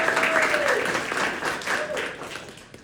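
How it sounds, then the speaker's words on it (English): An audience at a storytelling and poetry open mic claps steadily for a few seconds, and a faint voice can be heard under the applause. "So can we clap for that real quick?"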